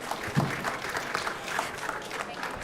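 Applause from a conference audience for the panel speakers at the Indonesia Pavilion session, a moderate wash of many hands clapping at a steady level, somewhat distant, with a voice faintly mixed underneath.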